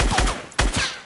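Gunfire in the video game Fortnite, a few close, loud shots in quick succession with a strong crack near the middle, each decaying briefly.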